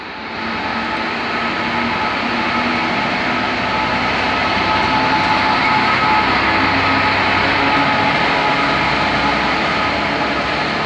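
A train passes through Doncaster station in a loud, sustained rumbling roar that holds steady for about ten seconds, with no voices heard.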